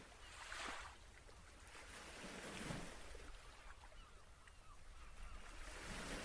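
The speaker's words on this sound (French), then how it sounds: "Les vagues qui avancent doucement vers le rivage" Soft, steady wash of sea waves rolling onto a shore, a continuous low hiss that swells gently, faint and distant with some wind.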